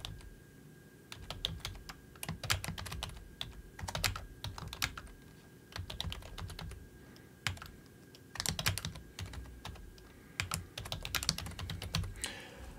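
Fast typing on a computer keyboard, bursts of crisp key clicks in uneven rhythm with short pauses, fairly close and moderately loud with no voices.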